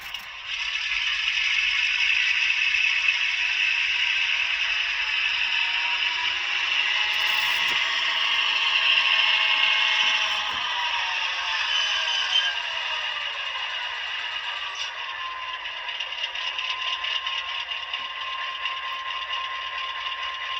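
A Walthers Proto GP9 model locomotive in Southern Pacific Phase II scheme runs under DCC sound, with a steady diesel engine drone and mechanical rattle that rises as the throttle opens, then settles to a lower hum, loud and continuous with no talking.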